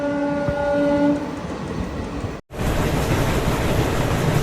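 An express sleeper train runs at speed through a station without stopping, its horn sounding in long steady tones before a brief cut, then loud dense rattling and clattering wheel noise close by.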